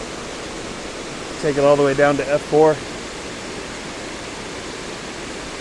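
Waterfall at Whisky Falls, water tumbling off rock: a steady, even hiss of falling water fills the whole clip, while someone talks briefly over it partway through.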